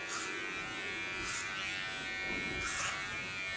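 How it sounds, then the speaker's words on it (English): An electric hair clipper cuts a man's hair with the blade angled against the skin, giving a steady close buzz that swells in three brief louder bursts as it passes through the hair. "Leaning on the skin, holding my clipper in an angle"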